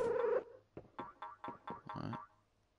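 Cat purring in a video game set in an old house, heard as a short run of soft, evenly spaced pulses after a brief tone, fairly quiet with no speech.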